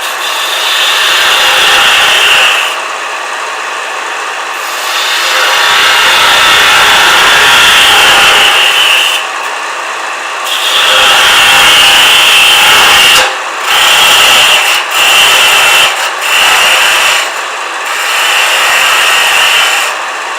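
A wood lathe turns a bottle stopper held on a screw chuck, and the tool cuts in loud, close bursts of scraping and rushing with short pauses between passes.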